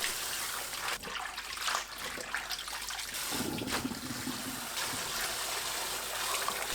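Cold water runs and splashes steadily over blanched napa cabbage being rinsed, a continuous close trickle and gush with shifting splashes throughout.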